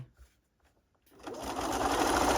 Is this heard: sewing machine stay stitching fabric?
yes